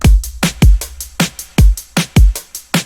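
Modern pop drum loop built in FL Studio: punchy kicks and snare hits with reverb tails on the snare and hi-hats, repeating in a steady, loud, upfront groove with no voice.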